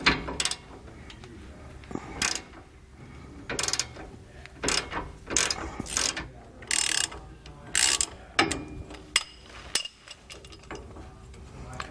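Hand ratchet with a 13mm socket loosening U-bolt hardware on a steering stabilizer bracket of a 2014 Thor Freedom motorhome, short bursts of close, sharp clicking ratchet strokes separated by pauses.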